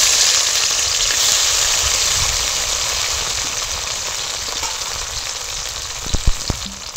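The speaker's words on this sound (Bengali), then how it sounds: "তেল গরম হয়ে গেছে, তেলের মধ্যে কাঁচা লঙ্কার কুচো দিয়ে দিলাম কিছুটা, আর দিয়ে দেবো আদা কাঁচা লঙ্কা বাটা, কুচো করা টমেটোটাও দিয়ে দেবো" Chopped green chilli, ginger-chilli paste and diced tomato fry in hot mustard oil with a loud, steady, close sizzle that eases slightly over time, and a few knocks and clatters near the end.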